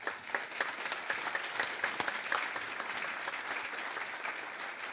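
An audience at a First Friday morning gathering breaks into steady, sustained applause to welcome a speaker, a dense wash of clapping with a few sharper claps standing out, filling the room without any voices.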